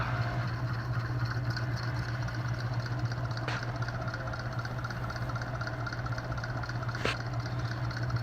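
A Hunter C-18 ceiling fan running in updraft mode gives a steady airy whoosh over a low hum, with two faint ticks along the way, close and even, with no voices.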